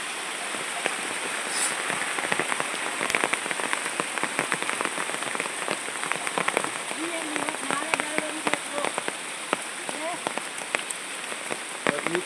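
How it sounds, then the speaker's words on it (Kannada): Rain falls steadily on a village farm, with dense, close patter and sharper drops hitting nearby surfaces throughout, and some faint talk in the background. "ಮಳೆ ಬಂತಲ್ಲ"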